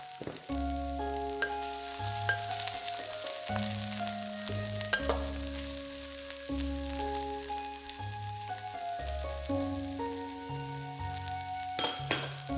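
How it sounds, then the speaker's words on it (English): Ginger, shallots and garlic frying in a pan over medium heat give a steady soft sizzle under continuous music. "Over medium heat, fry the ginger, shallots and garlic till it's fragrant."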